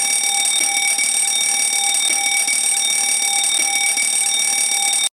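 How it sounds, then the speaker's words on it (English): Fire alarm pulled at a school rings loudly and continuously, a steady electronic tone with harsh overtones holding unbroken for about five seconds before cutting off abruptly. "How dare you pull the fire alarm?"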